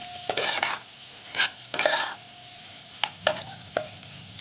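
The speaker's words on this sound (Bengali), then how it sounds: "এই ম্যাশ করা আলুটাকে আমি ভালো করে নেড়ে মিশিয়ে নেব মশলার সাথে" Mashed potato being stirred and mixed with spices for potato chops, giving several scraping, chopping-like spoon strokes against the pan in short bursts, close and fairly loud with quiet gaps between.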